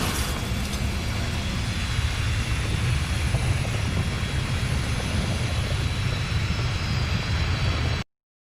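Fighter jet flying across the United States, a continuous loud broadband roar that holds steady throughout before cutting off abruptly at the end.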